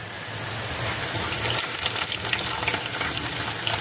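Onions frying in a pan until crisp, a dense, steady sizzle running throughout, fairly loud and close, with faint crackles and no talking.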